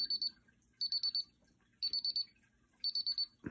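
Paradox security alarm keypad chirping in quick clusters of four sharp electronic beeps, each cluster separated by about a second of quiet, close and clear with nothing else in the background.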